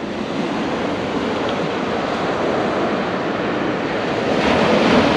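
Ocean surf rolling onto the beach at Las Grutas on the Argentine coast on a cold day, a steady loud wash of breaking waves with wind buffeting the microphone throughout.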